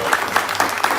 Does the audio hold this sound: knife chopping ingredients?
no